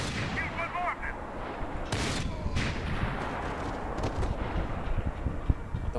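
Gunfire in the video game Max Payne 3 rings out as a few sharp shots over a dense, busy combat background, mixed with faint game voices.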